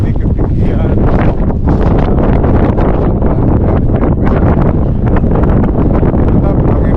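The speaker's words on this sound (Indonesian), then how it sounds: "anginnya gede banget, kencang sampai badan ke bawah" A strong mountain wind on Mount Slamet roars steadily into the microphone, loud and buffeting with gusty surges throughout, and nobody talks over it.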